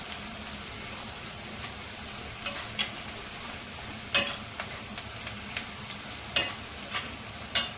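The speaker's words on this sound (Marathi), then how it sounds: "चांगला असा एकजीव करून घ्यायचा." A spoon stirs a spiced white bitter gourd thecha mixture with turmeric and salt in a pan. Soft sizzling runs throughout, with a few sharp scrapes and clinks of the utensil against the pan.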